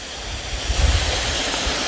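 A small waterfall, its flow reduced by drought, pours into a pond beside an abandoned house as a constant close rushing roar with some low wind rumble.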